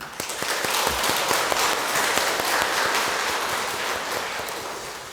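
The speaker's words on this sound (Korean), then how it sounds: "박수" A church congregation applauds during Mass, dense steady clapping that holds for several seconds at even strength, with no talking.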